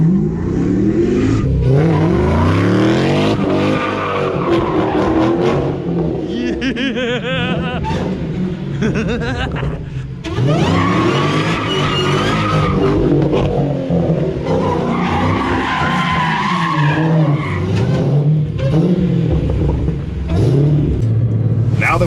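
A custom widebody Dodge Challenger driven hard on Nitto tires, its engine roaring loud and continuous with revving surges and tire squeal throughout.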